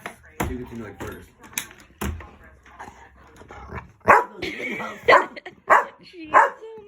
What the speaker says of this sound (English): She's barking at the bottle.